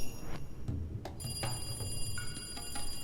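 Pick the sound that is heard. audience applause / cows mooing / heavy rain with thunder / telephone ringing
telephone ringing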